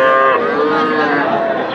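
Calves moo loudly and close by at a crowded cattle market in Ambari, Dinajpur, with one drawn-out call filling the moment.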